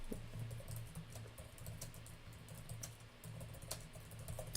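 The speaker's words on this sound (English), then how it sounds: "Boy, my typing is on fucking point." Rapid typing on a computer keyboard, with steady irregular key clicks running throughout over a low constant hum, heard close up during a discussion of Cadillac CT5 Blackwing tuning with HP Tuners.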